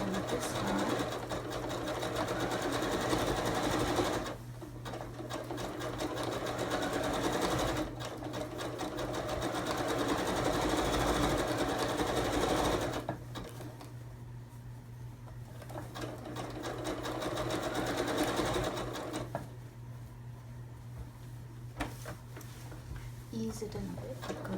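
A sewing machine stitches the side of a cushion cover with a steady mechanical whir that runs in long stretches, pausing briefly between runs.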